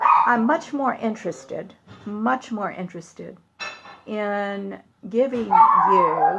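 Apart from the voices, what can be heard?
dog barking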